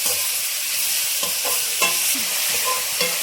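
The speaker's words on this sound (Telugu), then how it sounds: "ఇట్లాగా ఈ నేతిలోనే బాగా వేయించుకోవాలండి" Grated carrot sizzles and fries in ghee for carrot halwa, with a spoon scraping and stirring through it in irregular strokes over a constant loud frying hiss, close up and with no voices.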